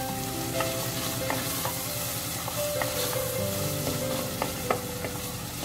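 Peeled, finely chopped tomato frying in a pan with a steady close sizzle and occasional stirring scrapes, no talk.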